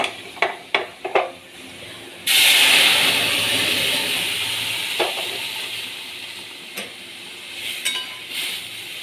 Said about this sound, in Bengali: ডালটা ঢেলে দেব।